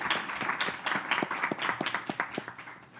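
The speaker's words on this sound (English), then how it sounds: "A round of applause, please." Audience at a sexual and reproductive health and rights event breaks into applause, with steady clapping from a modest crowd in a hall for three seconds, fairly soft overall.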